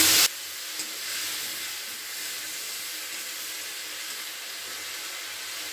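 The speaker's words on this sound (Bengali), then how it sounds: "তেলের মধ্যে দিয়ে দিলাম পাঁচ ফোড়ন" Panch phoron spices hiss and sizzle steadily in hot oil in a pan, a close, continuous frying sound after a brief louder burst at the start.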